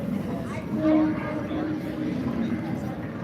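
A roller coaster train rumbles steadily along its track at Universal's Epic Universe, a low continuous mechanical roar with faint voices mixed in.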